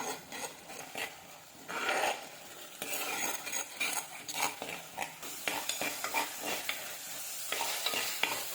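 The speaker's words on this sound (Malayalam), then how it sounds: "ഇനി നന്നായിട്ടൊന്ന് ഫ്രൈ ആയി നല്ലതായിട്ട് വെള്ളമൊക്കെ വറ്റി വരണം" Tomatoes frying down in a pan for a Kerala fish curry (prachi mulakittathu), with steady close sizzling and repeated spoon stirring and scraping against the pan, no voices.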